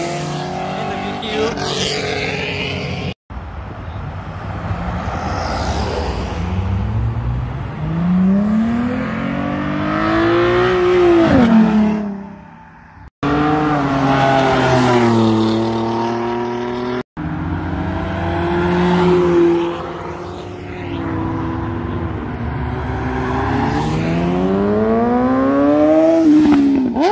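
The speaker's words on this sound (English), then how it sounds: "A Mustang." A Ford Mustang revs hard and roars past at a street car meet in Katy, Texas, loud repeated engine sweeps rising and falling with sharp cut-offs, close and dominant throughout.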